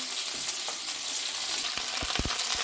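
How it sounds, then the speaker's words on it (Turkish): Pearl onions and potatoes sauté without oil in a pot, giving a steady bright sizzle with a few soft stirring knocks near the end. "Biraz da arpacık soğanla beraber kavuralım."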